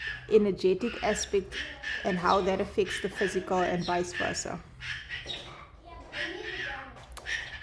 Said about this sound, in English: Let me see if I can get my bird to quiet down a bit.